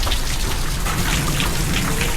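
Heavy monsoon rain pours steadily onto a flooded street in Sindh, a loud, dense, unbroken hiss of drops splashing on water and hard surfaces.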